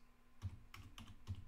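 A root password is typed on a computer keyboard: a handful of faint, quick key clicks in an irregular rhythm.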